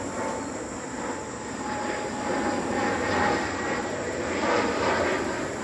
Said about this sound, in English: gotta love some airplanes.